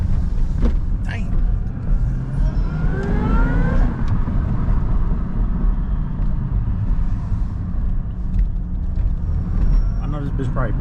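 A Chevy SS with a new intake drives along while its engine rumbles loud and close. Engine pitch rises and falls through a couple of accelerations, and a person talks over the engine noise.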